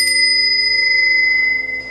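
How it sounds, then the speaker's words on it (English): A small brass bell is struck once and rings out loud and close with a clear, bright, sustained metallic tone that slowly fades over two seconds. "So this is a brass bell."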